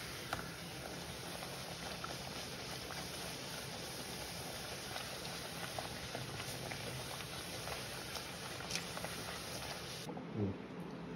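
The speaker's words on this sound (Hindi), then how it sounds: "अब इसे हम लोग फ्राई करेंगे।" Puris made from singhara (water chestnut) flour fry in hot oil, giving a steady, soft, continuous sizzle and bubbling that stays even and fairly quiet before cutting off near the end.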